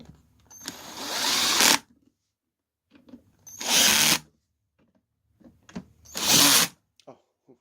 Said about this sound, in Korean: 이렇게 드릴로 해야지 어, 완벽하게 되더라고요.